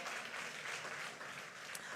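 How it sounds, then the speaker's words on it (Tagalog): A congregation applauding during a church service, a dense, even wash of clapping heard from a short distance, with no voices over it. "Pumalakpak ka mga mapagtagumpay."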